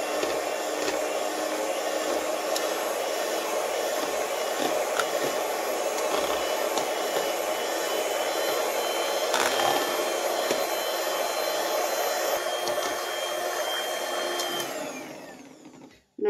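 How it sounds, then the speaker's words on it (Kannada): Electric beater whipping a watermelon ice cream mixture, a loud, steady whirring drone running close and continuous for the whole stretch before cutting off at the end, with no talking. "ಈಗ ಮತ್ತೊಮ್ಮೆ ಇದನ್ನು ಚೆನ್ನಾಗಿ ಬೀಟ್ ಮಾಡ್ಕೊಳ್ಳೋಣ."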